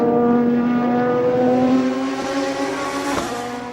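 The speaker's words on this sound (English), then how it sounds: "The number 58 Aston sounding as glorious and looking as steady as it has since the beginning of the race" The number 58 Aston Martin race car at the 24 Hours of Le Mans 2005 holds a loud, sustained engine note with strong steady harmonics, fading slightly as it runs on near the track.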